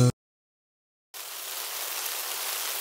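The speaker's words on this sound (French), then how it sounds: "Oh, il pleut!" After a brief burst and a second of silence, steady rain starts up as a soft, even hiss that continues to the end.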